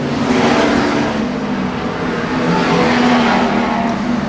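Street stock race cars thunder down the main straight at a dirt raceway, a loud continuous engine roar filling the air, with no speech on top.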